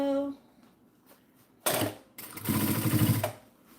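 A sewing machine stitches a bag with the needle kept down, running in short bursts of dense mechanical whirring, the longest near the end, close and fairly loud between quiet pauses.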